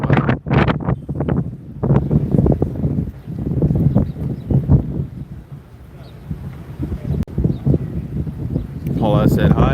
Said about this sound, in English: Right close to the water in a few spaces, it gets pretty windy over there for some reason.